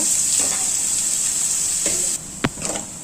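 Onions sautéing over medium heat for sambar, a loud steady hiss of frying with a few stirring scrapes, easing off near the end before a sharp knock and renewed sizzle.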